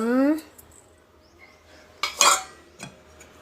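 Rice, cornflakes and semolina poured into a vessel, giving a few brief rattling, clattering bursts against a quiet kitchen background after a short tone at the start.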